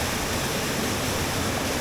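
Rushing white water of a mountain trout stream by waterfalls roars as a steady, loud, broadband wash with no pauses and no voices.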